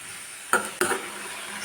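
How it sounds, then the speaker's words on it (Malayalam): A spoon stirring onion thoran in a pan over a faint steady hiss, giving two quick close scrapes and knocks in the middle of the moment, with no talking. "സ്റ്റവ് മീഡിയം ഫ്ലെയിമിൽ വെച്ചിട്ട് ഇത് നന്നായിട്ട് ഇങ്ങനെ ഇളക്കി കൊടുക്കാം."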